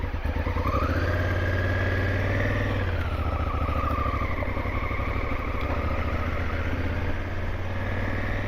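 A Honda Africa Twin motorcycle engine runs steadily on an off-road ride at Merritt Island, a loud close-up throbbing drone with revs rising and easing, wind rushing over it and no talking.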